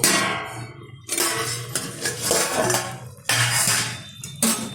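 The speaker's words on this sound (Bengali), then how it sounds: "ঢাকনাটা তুলে দিচ্ছি।" A metal lid is lifted off a cooking pot of drumstick (sajne data) charchari on a stove, with a few sharp clanks and scrapes of metal against metal between quieter gaps, close and without talk.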